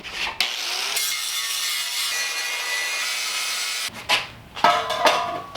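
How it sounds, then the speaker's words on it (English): Metal on a homemade rocket stove bio-char reactor gets a quick grind with a power tool: a loud, continuous rasping whine for about three seconds, then short, uneven bursts of grinding and tool handling. "I do need to give this a quick grind to get that down to the level of the metal."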